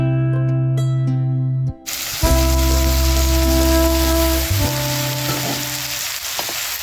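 Food fries in a pot with salt added, a steady dense sizzle that fills the clip after a short tonal passage at the start, close and loud with slight shifts in texture and no speech.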